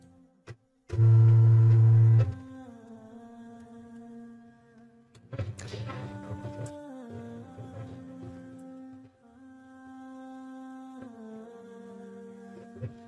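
A domestic embroidery machine stitches a design, giving off a humming motor whine whose pitch steps up and down, opened by a brief loud low drone and with light ticking throughout.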